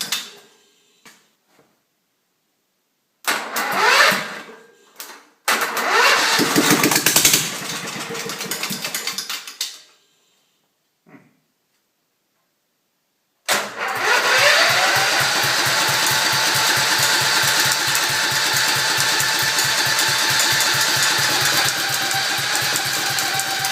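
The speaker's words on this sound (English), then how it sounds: "I'm going to drizzle a little bit of gas into the carburetor of the engine" A wood chipper build's engine, primed with gas drizzled into the carburetor and jump-started from a generator welder's battery, sputters through a few short attempts with silent gaps, then catches and runs steadily and loudly with a rapid even chug.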